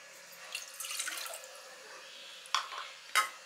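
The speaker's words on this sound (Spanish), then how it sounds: "Vamos a poner a hervir una taza de agua" Water runs from a tap into a pot for boiling with ginger, a soft splashing pour with a couple of sharp clinks of cookware, close and unaccompanied by talk.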